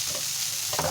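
Rice stir-fried in a hot pan with lumps broken up as it cooks, a brief close sizzle with scraping stirring sounds rising near the end.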